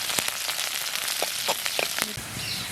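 Onions sauté in onion-flavoured oil for a chicken pepper fry, giving a dense, steady crackling hiss with scattered sharp pops and light spatters, close and continuous.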